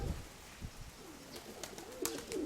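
Soft pigeon cooing with a few faint bird calls in the background, fairly quiet with no talk.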